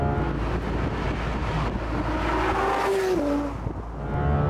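A Porsche GT3 RS naturally aspirated six-cylinder with no particulate filter, roaring and revving hard toward 9,000 RPM, the pitch climbing then dropping as it shifts, loud and close with road noise underneath.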